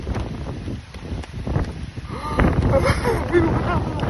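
Strong wind gusts across an open golf course in rough weather, a continuous loud rumbling buffeting of the microphone that swells and surges throughout.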